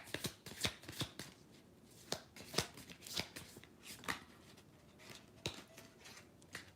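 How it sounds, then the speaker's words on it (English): Tarot cards are shuffled and drawn from a deck at close range. The sound is a quiet run of soft, papery riffles and light taps at an uneven rhythm, with no talking. "I'm going to pull one more card from this beautiful deck"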